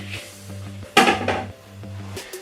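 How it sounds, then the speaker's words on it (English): Cheesecake base mixture is tipped from a bowl into a lined pan, giving a few soft clunks and one sharper knock of the bowl against the pan. The sounds are close and fairly quiet, with no talking. "you're literally just going to tip everything in"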